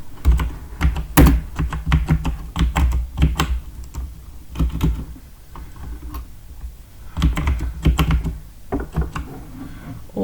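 Quick, close clicking of typing on a computer keyboard comes in irregular bursts with short pauses, loud and alone with no talking.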